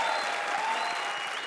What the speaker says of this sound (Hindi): तालियां बजाओ उनके लिए।